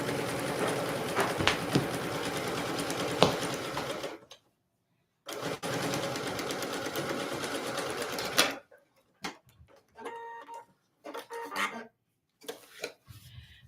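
Sewing machine chain piecing quilt corner beam units, running in two long, steady, close whirring bursts separated by a pause, then quiet fabric and handling noises.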